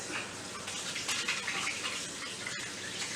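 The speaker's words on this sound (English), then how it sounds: "let me wash my hands real quick" Hands being washed under a running kitchen tap, a steady close splash and gush of water for a few seconds with no talking.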